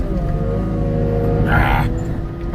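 A Cat 289D compact track loader's diesel engine runs steadily in high gear, a close, continuous drone with stable harmonics and a brief rise in intensity midway.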